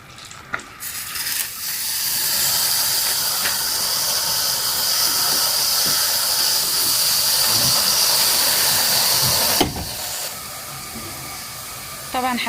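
Water pours into a hot pot holding rice and green fava beans, giving a loud, sustained steaming hiss and sizzle for several seconds before easing off.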